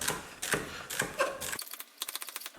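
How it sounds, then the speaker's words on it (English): Knife slicing one stalk of celery on a cutting board: a few separate firm crunching cuts, then a quick run of sharp rhythmic chops, close and clear with no talking. "you cut up one stalk of celery"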